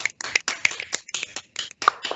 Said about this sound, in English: So we can give a round of applause.